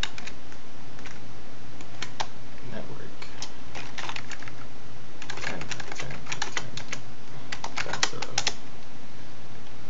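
Computer keyboard typing commands for router setup, bursts of quick close key clicks separated by short pauses, with a steady hum under a faint voice.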